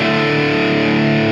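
Electric guitar played through an EWS Brute Drive distortion pedal, a smooth, creamy, sustained distorted chord ringing loud and steady for the whole short stretch, with no talking.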